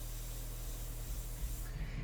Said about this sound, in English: And I'm just spraying through that.